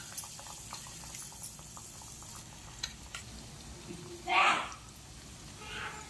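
Boneless konem fish pieces deep fry in hot oil for fish 65, making a steady bubbling hiss that swells into a brief loud crackling burst partway through. A soft voice sits faintly in the background.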